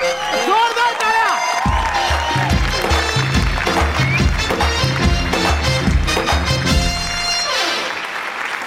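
Loud, sustained applause and cheering from a crowd for the winning team at a Marathi comedy show, continuous across the whole stretch with music and voices mixed in.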